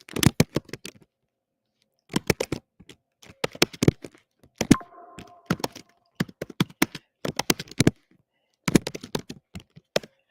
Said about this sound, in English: So we're going to just type that in.